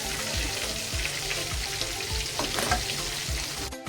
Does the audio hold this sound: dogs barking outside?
no